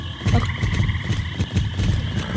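A horse gallops in the Star Stable video game, quick rhythmic hoofbeats thudding steadily and close over a light background tone, with no voices.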